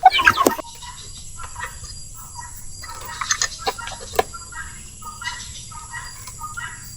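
Several hens cluck and chirp near a makeshift nest on a small farm, with a sharp squawk at the start followed by scattered soft clucks and calls against a steady low background.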